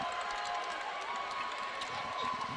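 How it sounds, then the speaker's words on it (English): Scattered applause and crowd noise fill a hockey arena during a high school varsity boys championship game, a steady distant wash of clapping and murmur with no clear voices on top. "Getting some applause from their side of the arena here."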